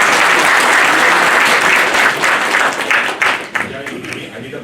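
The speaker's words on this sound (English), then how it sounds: "Another round of applause for all our presenters." Conference audience at an ISACA Delhi Chapter cybersecurity event clapping for its presenters: dense, loud applause from a full room that holds steady, then thins into scattered claps and fades toward the end.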